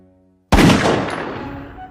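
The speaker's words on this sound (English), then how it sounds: "the hand cannon was able to fire" A single sharp, loud blast from an early hand cannon cracks out after a short silence, then a long rumbling echo slowly trails off.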